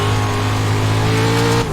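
A massive high-horsepower rallycross truck engine in the iRacing game roars loud and steady at high revs, a sustained droning tone that drops slightly at the end, with no voices.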